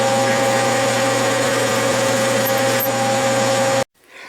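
A small Unimat lathe drives a 3/8 inch drill half an inch deep into steel, making a constant close motor whine with a steady tone, a brief faint clink partway through, and a sudden stop near the end.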